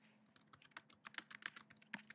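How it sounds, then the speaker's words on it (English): Typing on a computer keyboard during a remote-session lag test on a XenApp 6 server, a quick irregular run of close, crisp key clicks with no talking. "let's take a look at typing"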